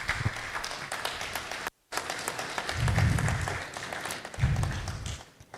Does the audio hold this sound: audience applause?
yes